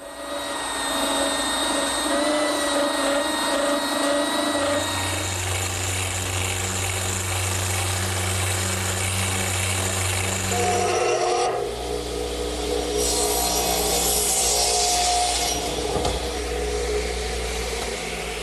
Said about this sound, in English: now I'm sanding the dowels flush using my belt sander